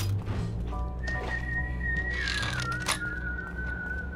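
Whistling in the video game Zeno Clash, a long sustained tone holding steady and then gliding slightly downward, with brief chirpy sounds and faint game noise around it.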